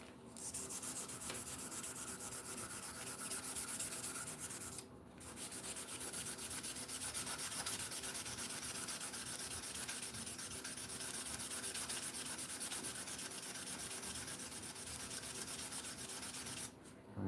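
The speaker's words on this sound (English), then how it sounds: "We'll sand them and see what happens." Etched metal pieces are sanded by hand in a continuous gritty rasping rub, steady and close, with two short pauses between passes and no speech.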